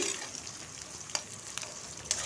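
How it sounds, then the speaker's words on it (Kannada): Chopped onion and green chillies fry in hot oil in a pan for a mutton fry, with a faint steady sizzle and a few soft stirring scrapes. "ಹಾಕಿ ಸ್ವಲ್ಪ ಫ್ರೈ ಆಗಲಿ ಈರುಳ್ಳಿ"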